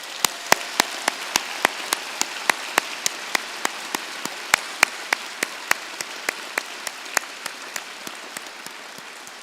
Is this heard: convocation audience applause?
yes